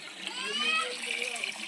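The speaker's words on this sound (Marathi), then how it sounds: "चला तर आता पाणी भरायचं काम चालू आहे." Water pours and splashes steadily into a storage tank as it fills, a continuous close gushing rush with a speaking voice faintly present over it.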